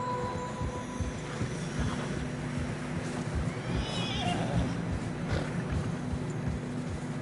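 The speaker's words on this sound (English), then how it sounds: "Horses are struggling. Yeah, a lot of fresh snow here." In Red Dead Redemption II, horses struggle through fresh snow: a continuous muffled trudge of hooves with whinnying and snorting over a steady low rumble, fairly close and sustained throughout.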